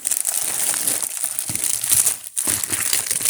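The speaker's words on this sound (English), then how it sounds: "I'm not gonna look inside of the box while I'm shuffling or while I'm pulling." Crinkly trading card packs rustle and crackle as they are shuffled by hand inside a box, a close, continuous crumpling with a brief pause midway.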